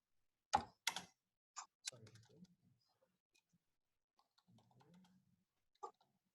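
Keys clacking on a computer keyboard as a short search phrase is typed, a few sharp clicks spaced irregularly with faint pauses between, quiet and close.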